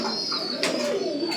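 Fancy pigeons of an old bloodline coo nearby, a low throaty warbling over a steady background hum, with a faint flutter or rustle partway through.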